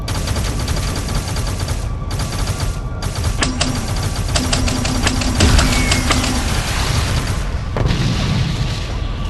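Missile strikes and gunfire in the space combat game Interstellar Strike Team, a steady roar of repeated booms and rapid shots over a continuous low rumble, fairly loud and close, with no talking.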